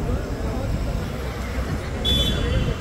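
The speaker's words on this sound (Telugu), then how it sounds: "సో లండన్ బస్ వచ్చేసింది" A red London bus pulls up in street traffic with a low, steady rumble of engines and road noise, while people talk nearby.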